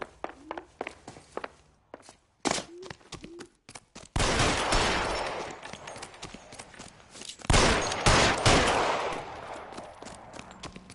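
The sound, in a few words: gunshots in the video game L.A. Noire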